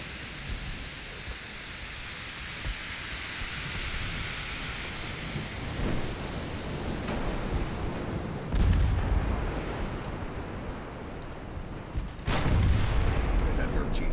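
Naval guns firing in the Ultimate Admiral: Dreadnoughts game, with the Kingdom of Italy fleet in an 1890 setting. Deep booming blasts sound over a steady rumbling sea-and-battle noise bed, with two heavy reports standing out.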